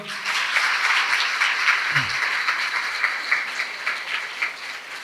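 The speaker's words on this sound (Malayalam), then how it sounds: "ഒരു വലിയ കൈയടിയോടെ നമുക്ക് സ്റ്റാർട്ട് ചെയ്താലോ?" Sustained audience applause filling the room at a talk about skin care habits, steady dense clapping at moderate loudness throughout with no voices over it.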